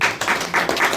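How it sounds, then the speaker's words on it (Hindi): A church congregation claps together for about a second, several bursts of dense, fairly loud applause in quick succession. "एक अच्छा ताली बजाएं प्रभु के लिए।"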